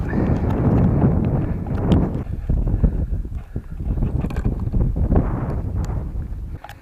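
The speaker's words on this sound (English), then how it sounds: "as soon as I plan to launch, the wind has just picked up" Wind blowing outdoors at an RC plane launch site, gusty rumbling buffeting across the microphone, loud and continuous with irregular surges and dips.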